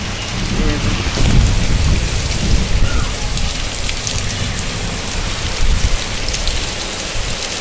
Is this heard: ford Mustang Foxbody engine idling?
no